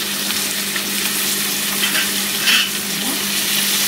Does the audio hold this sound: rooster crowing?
no